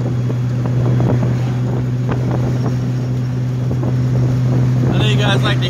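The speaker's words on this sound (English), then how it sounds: "I know you guys like to hear the tone of the motor run." A 1985 Ford Mustang GT Fox-body convertible with a V8 cruises on a Florida road near Sebring, its engine a steady low drone mixed with constant wind rush for the whole stretch.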